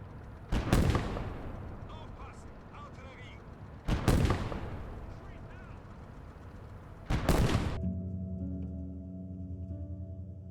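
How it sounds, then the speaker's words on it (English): HE shell explosions in the game Gates of Hell: three loud, evenly spaced booms, each trailing off into a rumbling decay, followed by a low, steady humming tone. "When an HE shell hits, it just makes an explosive noise"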